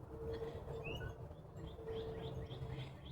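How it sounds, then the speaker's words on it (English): Backyard birds in North Texas chirp in short repeated tweets over soft steady background noise, fairly faint and somewhat distant, with no talking. "Y'all know I love these birds."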